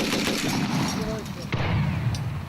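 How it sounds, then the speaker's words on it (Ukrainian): A single sharp gunshot cracks out at a military training ground over steady outdoor noise, with a faint rumble lingering after it. "Постріл!"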